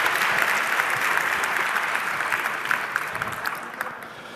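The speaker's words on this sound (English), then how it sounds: "give him a big round of applause, and the stage is yours." A conference crowd at a 34C3 talk breaks into loud, sustained applause as a speaker takes the stage, a thick wash of clapping that slowly thins toward the end.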